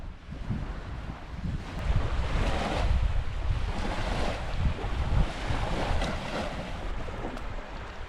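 Waves slap and churn on Lake Baikal around a kayak, a continuous loud wash of surf with gusting wind buffeting the microphone and no voices.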